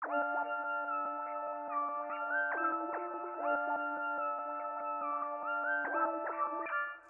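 An eerie synth pad sustains layered, shimmering chords with echoing, shifting tones, played alone and steady before fading at the end.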